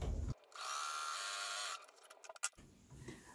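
A sewing machine runs in one steady mechanical whir for about a second, stitching rag quilt back pieces together, then stops, followed by a few small clicks and handling noises.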